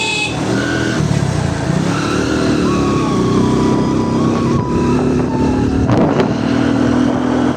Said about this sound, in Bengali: আমাদের ছোট ভাই বাইক চালাচ্ছে